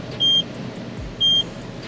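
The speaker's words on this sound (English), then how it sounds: "wait for the 2 beeps" Two short electronic beeps from a Mercedes-Benz GT63 S PIN-code immobilizer, about a second apart, clear and steady, over a low idling hum.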